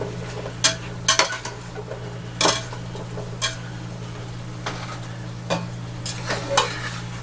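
Mushrooms sautéing in a pan, a soft continuous sizzle broken by sharp spatula scrapes and taps against the metal at irregular intervals, close up with no talking.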